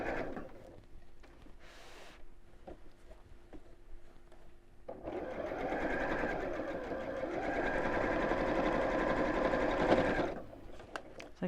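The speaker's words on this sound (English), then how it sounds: "So you can use a free arm on your sewing machine if you prefer." A sewing machine stitches around the edge of a large tie tote bag, at first quiet with light handling clicks, then running steadily and closer in a continuous whirring burst for several seconds before stopping.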